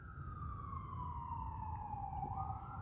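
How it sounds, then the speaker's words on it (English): An ambulance siren passing in the distance, a single wailing tone sliding downward as the vehicle moves away, fairly faint over low street rumble. "The ambulance."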